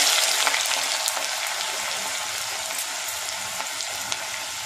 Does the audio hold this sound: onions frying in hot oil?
yes